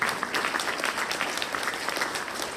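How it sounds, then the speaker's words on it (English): An audience in a church during Sunday worship claps in a steady, moderately distant round of applause that carries through the whole moment without talk. "You can give them a round of applause."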